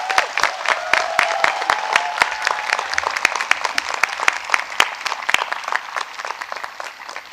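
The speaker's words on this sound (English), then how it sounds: "So let's give them a big round of applause." An audience applauds at a university convocation ceremony with steady, dense clapping from a large crowd that carries on without pause, heard from some distance in a big hall.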